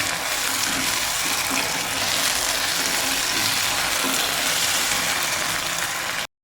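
Tomato and green chillies sizzling in a hot pan, a loud, dense, continuous frying hiss that holds steady throughout and cuts off abruptly at the end.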